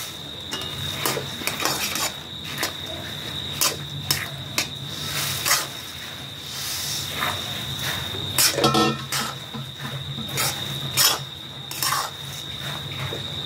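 A spatula scrapes and clinks against a pan while puffed rice is stirred into sticky jaggery syrup, giving irregular metallic taps and scrapes over a steady high hum, with a denser clatter burst midway.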